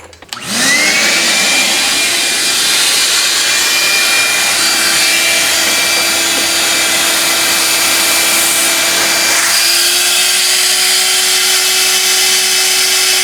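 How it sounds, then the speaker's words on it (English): A steady, loud vacuum motor drones continuously with a high whine, pulling glue through a wooden cabinet door joint from underneath, shifting pitch slightly partway through, no voices over it. "using vacuum on the underneath side to try to pull some glue through this whole joint here"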